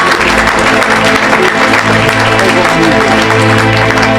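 A church congregation applauding the Lord, loud dense clapping from many hands that fills the space steadily from start to end.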